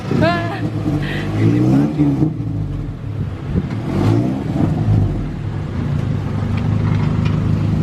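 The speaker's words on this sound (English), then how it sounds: "Now he's gonna put the car out so we can give it a little test drive." A 2009 Honda Civic Si moving off for a test drive, the engine revving and whirring up and down close by, with people talking over it throughout.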